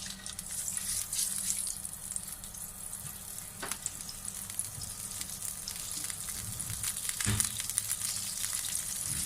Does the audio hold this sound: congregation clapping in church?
no